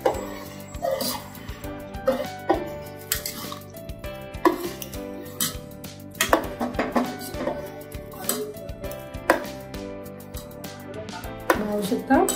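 Dal khichdi being stirred in a pot, with rice just added: repeated scraping and clinking of a spoon against the pot in uneven strokes over a steady low background, fairly close.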